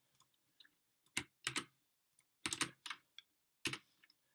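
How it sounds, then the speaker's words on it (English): Someone types on a computer keyboard in short bursts of close, crisp key clicks with brief pauses between them in a quiet room. "so I'm gonna type this"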